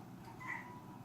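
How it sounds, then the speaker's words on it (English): A faint, short meow from Ellie the house cat, a brief tonal cry sitting under steady low room noise indoors at home. "Sorry, Ellie, our cat's trying to get on the table."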